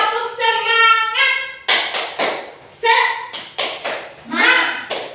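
A group does a rhythmic clapping cheer, tepuk semangat, led by a presenter at a school gathering of teachers. Sharp claps and taps come in a patterned rhythm, mixed with chanting voices.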